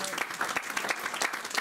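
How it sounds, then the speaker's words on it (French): Church congregation applauding during a French-language sermon on the raising of Lazarus, a steady mid-level patter of clapping hands throughout with faint voices mixed in. "Donnons quand même une acclamation."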